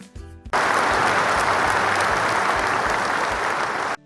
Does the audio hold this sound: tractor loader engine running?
no